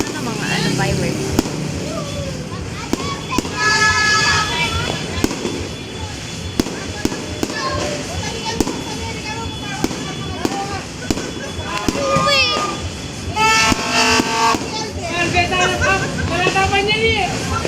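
New Year fireworks burst over Marcos Village in a rapid, irregular string of sharp cracks and pops, with crackling and whistling fizzes among them. Excited voices of people nearby chatter throughout.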